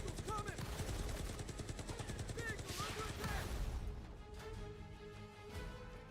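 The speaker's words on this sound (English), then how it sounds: "That explosion." Explosions and bursts of gunfire from a military video game trailer with an enemy air strike, a dense, loud barrage of rapid shots and blasts that tails off into a quieter rumble near the end.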